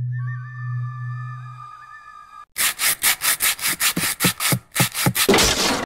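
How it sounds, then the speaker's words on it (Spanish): A steady whistle-like tone gives way to rhythmic back-and-forth rasping strokes, about a dozen close, loud passes of hand-sanding a wooden board for a small wooden spatula. "se comienza a lijar la tabla por todos lados"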